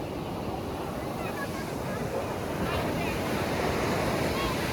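Ocean waves break on Vizag beach, a steady surging wash of surf with wind buffeting the microphone, swelling slightly louder toward the end.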